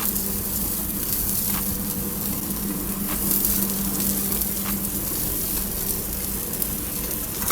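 Dry aged, salted chuck steak frying in butter in a pan, a steady close hiss and sizzle with faint crackles, running alone without talk.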